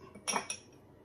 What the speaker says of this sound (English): let's get everything in here mixed up